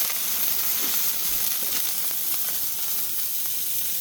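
Venison smashburger patties sizzle loudly on a hot flat griddle, a dense, steady hiss with small crackles and pops right up close, with no talk.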